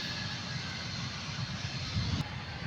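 Jet fighter aircraft engines idling or taxiing at an airport before takeoff, a steady, loud low rumble that holds throughout with no talk.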